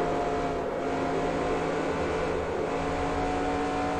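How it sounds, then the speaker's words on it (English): A simulated Next Gen NASCAR stock car engine drones in NASCAR Racing 2003 at Atlanta, a steady buzzing engine tone with a whining harmonic that holds at an even level throughout. "You can hear me having to go in and out of the gas pedal on corner exit"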